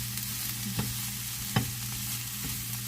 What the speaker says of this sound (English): So you just want to keep stirring it around. Let that oil get all over them.